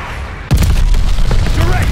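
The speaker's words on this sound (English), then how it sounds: "Glide bomb, ready for target." Glide bomb explosion in Call of Duty: Vanguard: sudden, loud and close, it strikes about half a second in after a steady hiss, then churns into a dense, rumbling roar with crackling debris.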